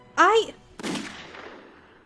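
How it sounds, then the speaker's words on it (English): A single gunshot sound effect from the Steam Prison visual novel game rings out after a short vocal exclamation, a sharp loud bang followed by a long fading echo. "There was a loud bang behind me that drowned out what I was going to say."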